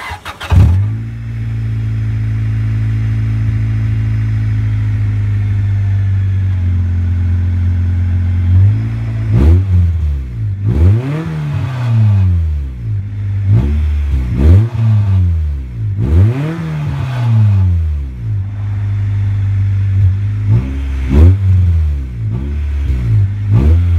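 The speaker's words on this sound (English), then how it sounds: "if you ever hear an ignorant exhaust, it's me" Acura Integra with a side-exit exhaust revving repeatedly after a steady idle, loud sweeping rises and falls in engine pitch close by, with no talking.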